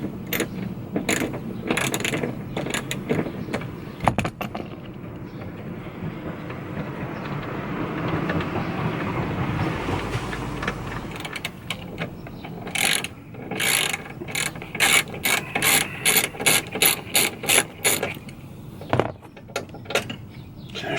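A 1/2 inch drive ratchet with a T40 bit loosens seat bolts in a Ford Transit van, first a sustained grinding turn, then a long run of rapid, evenly spaced clicks close up.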